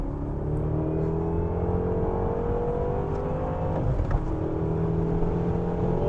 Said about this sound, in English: Another big pull for you. I'm already breaking traction.